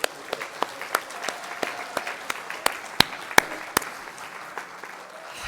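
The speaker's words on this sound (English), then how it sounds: "Get ready to clap." Scattered clapping from an audience, individual sharp claps standing out over a soft wash of applause, fading toward the end.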